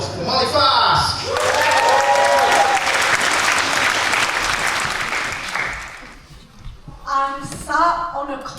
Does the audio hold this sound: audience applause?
yes